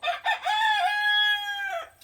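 A backyard rooster crows once, close and loud. Two short clucks lead into one long, drawn-out cock-a-doodle-doo that fades at the end.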